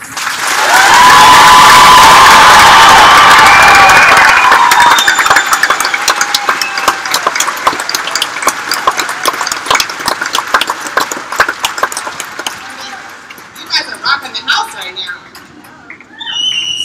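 A graduation-ceremony audience bursts into loud, sustained applause and cheering for high school dual enrollment students, dense clapping with whoops that gradually thins out into scattered claps near the end.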